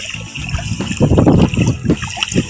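Water splashes and trickles in a flooded rice paddy as seedlings are pulled up by hand, with close, uneven bursts of sloshing over a steady wet background.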